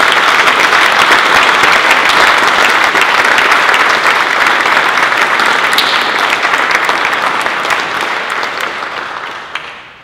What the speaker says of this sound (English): So please give all these sponsors a round of applause.